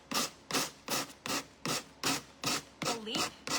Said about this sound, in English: this is 120 grit sandpaper, and I'm just going to lightly